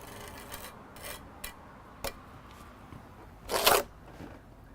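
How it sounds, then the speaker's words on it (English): A trowel scrapes marblecrete plaster smooth along an edge, giving a series of short, close rasping strokes, faint at first, with one louder, longer scrape near the end. "I'm just kind of scraping it down to where it pretty much just lines up with what's already there."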